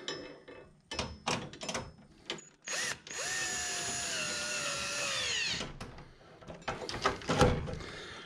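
A power drill drives Phillips head screws into a combo vending machine while a credit card reader is fitted, with a sustained whirring run of a few seconds between clanks and handling noises, close and loud.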